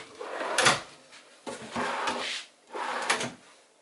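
Wooden drawers in a small upcycled tiny-house kitchen slide open and shut three times in a row, each a quick rumbling glide ending in a soft knock, close and fairly quiet.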